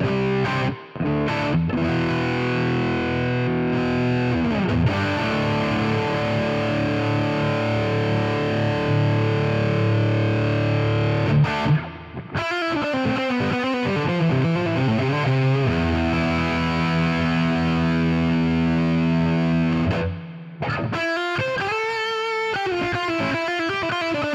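Heavily distorted electric guitar through a simulated Soldano SLO-100 amp in AmpliTube 5, playing sustained chords with a Fender reverb tail washing around the notes and brief pauses between phrases.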